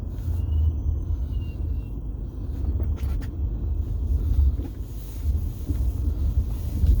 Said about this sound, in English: Now I'm going to partially drive through this snowdrift.